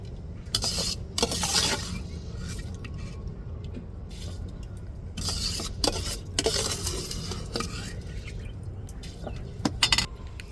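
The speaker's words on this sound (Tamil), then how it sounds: "தேவையான அளவு உப்பு அப்படியே போட்டு கிண்டி விட்டுருவோம்" Rice with salt stirred in a cooking pot, repeated wet scraping and squishing strokes with occasional clinks against the metal, close and irregular over a steady low background.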